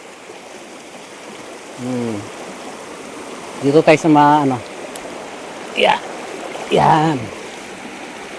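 A countryside river flows in a steady, close rushing wash that runs throughout, while a few people talk in short bursts over the water.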